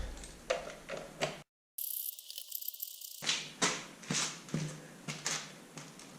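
A ratchet clicks in quick repeated bursts while bolts are tightened on a Suzuki RMZ450 dirt bike during an oil change, close and fairly faint, broken by a brief dropout of silence.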